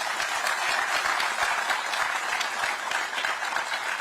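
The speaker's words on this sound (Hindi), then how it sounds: "उस सपने के लिए जोर से ताली बजाइए" A crowd at a public address by the Uttarakhand governor in Dehradun applauds steadily and loudly, with dense, continuous clapping throughout.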